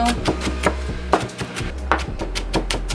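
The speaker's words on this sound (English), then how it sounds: "I'm going to go ahead and just run my knife through." Knife chopping ginger on a cutting board, a quick irregular series of sharp close taps, loud and alone with no talk.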